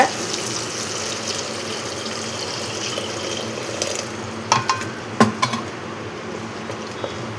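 Liquid pours steadily into a pot with a continuous watery rush, and a few sharp clinks and knocks come near the end. Nobody speaks.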